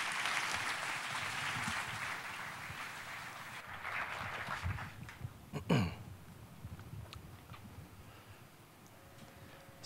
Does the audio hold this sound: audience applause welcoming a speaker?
yes